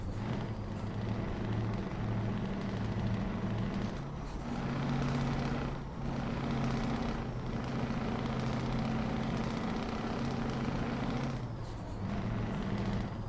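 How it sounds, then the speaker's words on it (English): Truck engine from Euro Truck Simulator 2, a steady low diesel drone with a faint high whine on top, dipping briefly a few times as if shifting gears, with no talk. "I actually downloaded a non-open pipe engine sound the other day as well, like a legitimate engine sound for this truck"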